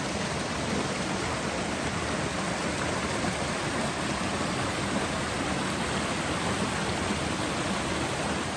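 Flowing stream water beside a patch of wild vegetable fern, a steady, loud, unbroken rushing wash with no pauses.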